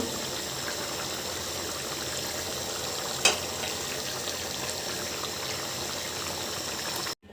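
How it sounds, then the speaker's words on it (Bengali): A pan of fish, potato and pea curry gravy bubbles and simmers at a steady boil, a continuous close hiss and sputter with one brief knock partway through, then cuts off abruptly near the end. "ঝোলটা সুন্দর করে ফুটে উঠেছে"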